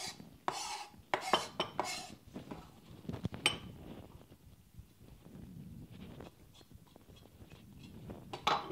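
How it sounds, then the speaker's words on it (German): Onions, garlic and olive oil being stirred and mixed in a bowl, with scattered scraping and clinking spoon strokes, louder in early bursts and then softer, steady mixing, close by and without talk. "wird das Ganze ein bisschen vermengt und verrührt"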